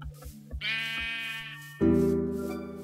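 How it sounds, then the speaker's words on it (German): Sheep in the video game Minecraft bleat loudly and clearly, one long wavering bleat followed by a second, lower bleat, with no talking over them. "Schafe sind hier auch schon mal gut."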